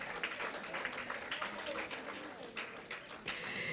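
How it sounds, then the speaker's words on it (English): An audience applauds primary school quiz contestants, a faint patter of scattered clapping that swells briefly near the end, with a voice speaking over it. "Give them a round of applause yet again."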